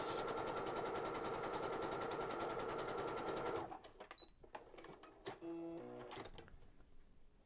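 A sewing machine stitches along a fabric edge with a fast, even, close mechanical rattle for several seconds, then stops, leaving a few clicks and handling noises.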